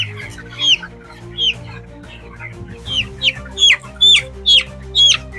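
Several broiler chickens with a respiratory cold cluck and squawk up close in short repeated bursts, growing more frequent toward the end, over a steady low background hum.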